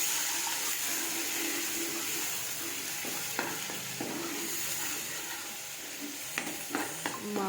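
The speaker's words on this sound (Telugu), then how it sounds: "తర్వాత మిక్సీ కట్టి పెట్టిన మసాలాని వేసి ఆయిల్లో బాగా ఫ్రై చేయాలి" Ground masala with ginger and garlic frying in oil in a pan for a bitter gourd curry, a steady, close sizzle with occasional stirring scrapes and clinks.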